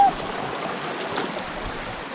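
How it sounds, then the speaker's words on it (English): Feet slosh through shallow creek water on a forest hike near a waterfall in Pisgah National Forest, soft close splashing and watery rustle with no speech. "So we're just gonna walk in the water."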